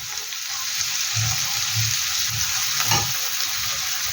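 Kachki fish and drumstick flowers fry in a pan, a constant close sizzle broken by several low thumps and scrapes of stirring.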